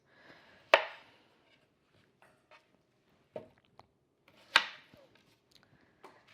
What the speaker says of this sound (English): we're going to top and tail the leeks, which, as you know, means cut off the tops, cut off the bottoms